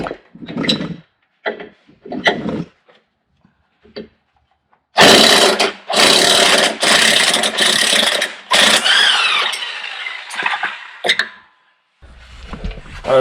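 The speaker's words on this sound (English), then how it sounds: "I'm going to try to use the impact wrench to get that out too." An impact wrench works a shock bolt loose on a Jeep Grand Cherokee. Several short, loud rattling bursts open the stretch, followed by longer sustained hammering runs and some clanking.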